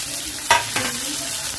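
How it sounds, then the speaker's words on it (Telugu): Tomatoes and green chillies frying in a pan for a chicken curry, with a close spatula scrape over a steady, hissing sizzle in one short burst and no voices. "కొంచెం కరివేపాకు వేసుకుని కలిపేసుకున్నాం."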